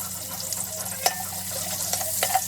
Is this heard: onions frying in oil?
yes